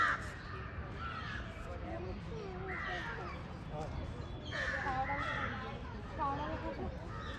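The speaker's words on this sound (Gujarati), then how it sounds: "વાઘને કાગડા ગાળું બોલવા માંડે" Crows caw repeatedly in a midday zoo in Surat, their harsh calls coming in several loud bursts over a murmur of nearby voices.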